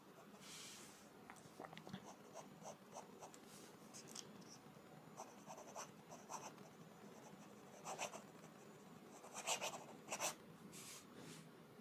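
A HongDian 617 fountain pen nib scratches faintly across paper in soft, irregular strokes, close but quiet with a low background hiss and no talking.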